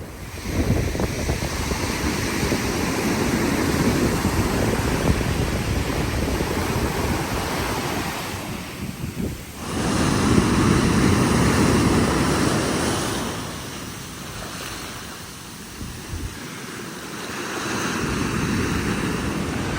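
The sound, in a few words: ocean waves on an Oregon beach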